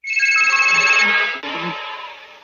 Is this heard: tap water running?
no